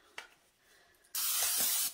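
Cooking spray sprayed onto a baking dish in a home kitchen before baking a Thanksgiving side dish, one short steady aerosol hiss near the end after a faint click and quiet room tone.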